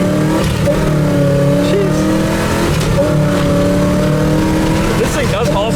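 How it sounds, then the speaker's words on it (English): A 1965 Chevrolet Chevelle's engine revs and accelerates loudly close by, a rumbling, rising roar that holds steady and then climbs near the end. "This is one super fast little Chevelle."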